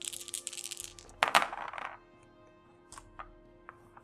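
Dice rolling for a Dark Souls board game: a burst of small plastic clatters on a table, a sharper tumble in the middle and a few late faint ticks as they settle, no talk.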